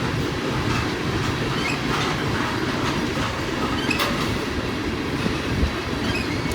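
A train rolls steadily along rail track near a steel mill, giving a continuous close rumble with faint clicking wheels throughout and no voices.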